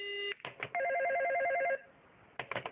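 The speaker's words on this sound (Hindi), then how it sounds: "अरे ये क्या, लगता है दूसरी कॉल आ रही है।" A telephone ringing with an incoming call in a Shin-chan cartoon: a loud electronic trilling ring with sharp repeated bursts, a brief pause, then more ringing pulses, with no talking over it.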